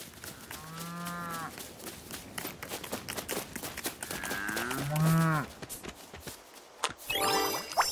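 A cow in the Lego Fortnite video game lets out several drawn-out moos, some overlapping, over a steady backdrop of running footsteps and in-game noise, with a sharper burst near the end.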